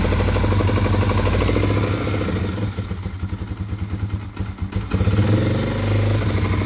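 A 2005 Yamaha TW200 motorcycle idles with the choke on in cold weather, a steady close, loud low-pitched engine putter with a brief uneven dip midway before the idle settles back to full.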